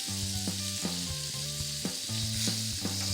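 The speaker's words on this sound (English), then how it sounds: "let your chicken get crispy. We're cooking it on the skin side down." Herb lime chicken fries skin side down in a pan, crisping, with a close, steady hissing sizzle and soft crackles throughout.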